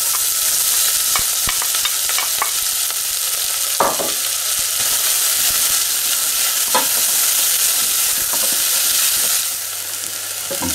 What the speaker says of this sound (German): In unserem erhitzten Öl schwitzen wir jetzt unsere Zwiebeln an.